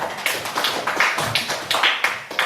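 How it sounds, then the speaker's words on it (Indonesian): A classroom of students claps for a student group, a loose run of sharp, uneven hand claps, fairly close and without talk. "Tepuk tangan untuk kelompok 3."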